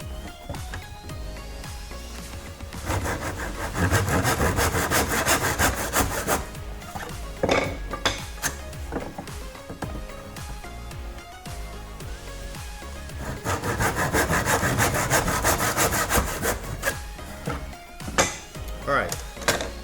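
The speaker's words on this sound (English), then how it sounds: "now I'm going to use my miter box to cut the 45-degree or chamfer at the end of the" A hand saw cuts 45-degree chamfers on wooden stool pieces held in a miter box, repeated rasping back-and-forth strokes in close bursts with brief pauses between cuts.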